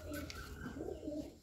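Pigeons cooing close by at a home loft, soft low repeated coos in a gentle rolling rhythm with faint chirps above, quiet and unaccompanied by talk.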